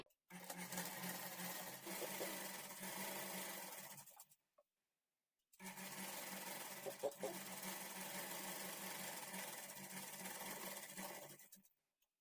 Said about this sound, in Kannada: ಅದೇ ಕಲರ್ ಥ್ರೆಡ್ಡನ್ನು ಹಾಕ್ಕೊಂಡು ಸ್ಟಿಚ್ ಮಾಡ್ಕೊಳ್ಳಿ